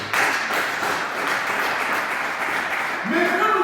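A church seminar congregation bursts into applause and cheering, a loud sustained wash of clapping with voices calling out over it, and a rising shout near the end.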